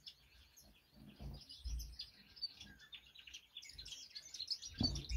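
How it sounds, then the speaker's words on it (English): Small birds kept in a birdshed chirp and tweet in quick, overlapping high calls, fairly close but soft, over a low background of faint knocks and shuffling movement. "Interesting birds."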